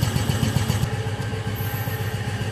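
A Quincy air compressor driven by an inexpensive VFD runs at around 100 PSI, a loud, close, rapid pulsing chug with a steady mechanical clatter.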